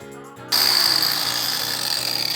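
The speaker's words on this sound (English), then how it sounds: "as I'm cutting this section away from the fender" A power tool bites into rusted steel on an abandoned Porsche's fender, starting abruptly after a quiet moment and running as a loud, steady high-pitched whine with a grinding rattle underneath.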